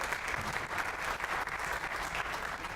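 Audience applause at a community event, an even wash of clapping from a seated crowd lasting the whole moment, moderately distant and steady.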